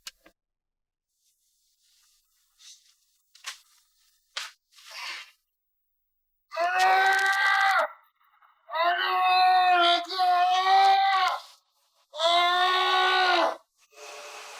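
After scattered clicks and rustles, a voice lets out several long, harmonic screams in separate bursts, loud and close.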